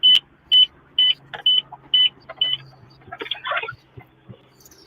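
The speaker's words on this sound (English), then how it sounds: "Yeah, you got beeping in your Just about. background. Yeah, that's my radar detector." Several short, loud, high-pitched electronic beeps from a radar detector inside a car, spaced about half a second apart, followed by a brief chirpy burst, over a low road hum.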